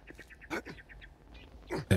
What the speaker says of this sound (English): What is that? Ah, bird.